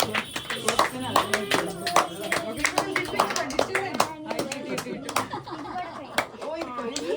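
A room full of people claps hands together for a wedding anniversary celebration, steady dense applause lasting several seconds, with children's and adults' voices talking over it.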